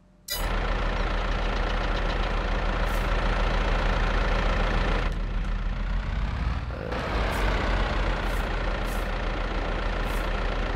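Tractor engine idling in the farming video game Farming Simulator 22, a steady, loud low rumble that continues almost unbroken, with a brief dip partway through and a few faint high beeps later.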